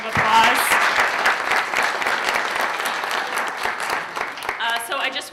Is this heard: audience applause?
yes